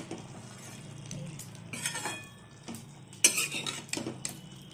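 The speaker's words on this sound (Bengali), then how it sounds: "ভালো করে নেড়ে একটু ঢাকা দিয়ে দিই" Spinach, bean, eggplant and potato curry being stirred in a pot, with a few scraping strokes and sharp clinks of a utensil against metal over a soft background sizzle, close by.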